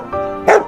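A dog gives one short, close, loud bark in a rural Upper Egyptian setting, right after a brief tonal voice sound.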